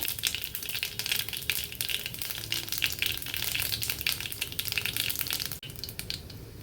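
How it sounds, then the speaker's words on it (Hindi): Cumin seeds, added after mustard seeds, crackle in hot oil for dahi lauki, a dense, steady sizzle that holds throughout and dips briefly near the end. "इसमें जाएगा जीरा, जीरा भी साथ साथ तड़क जाएगा"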